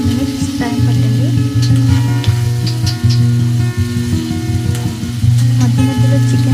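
Chicken frying in oil in a pan, a steady sizzle running throughout with occasional clicks and stirring sounds, heard under a strong tonal hum and some background voices.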